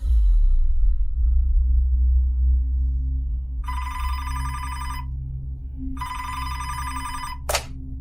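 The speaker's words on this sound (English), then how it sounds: "grabbed the phone on the second ring" A telephone bell rings twice in long trilling bursts, with a short clack at the end, over a steady low hum.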